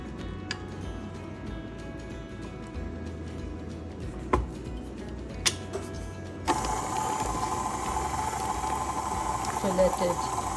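A stand mixer kneads soft pizza dough at low speed, giving a steady mechanical whir and ticking with a few sharp clicks. The motor tone shifts partway through and grows slightly louder.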